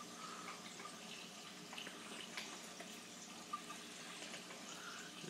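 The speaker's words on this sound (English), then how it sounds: "Here's a slight gurgle." Water gurgling faintly as it siphons out of a container in a home science project, a steady quiet trickle with a couple of small bubbling glugs, no voices.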